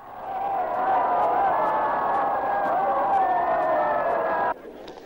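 Crowd at the 1938 French Grand Prix, a sustained roar of cheering and voices with a narrator speaking over it, cutting off abruptly near the end; old, narrow-band recording.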